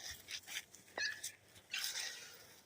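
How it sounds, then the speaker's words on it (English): Young puppies whimper and yip in soft, high, broken cries, several short whines coming in quick uneven bursts close by. "God, we got some pretty puppies."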